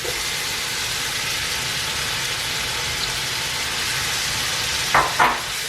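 Garlic and onions frying in a pan give a steady, even sizzle throughout, with two brief scraping clatters near the end and no voices.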